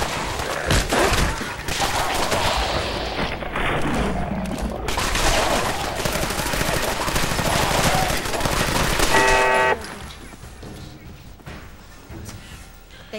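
Gunfire during a firefight in the video game Fallout 4, a dense run of rapid shots and bursts that stays loud through most of the stretch, then drops to quieter game sounds near the end.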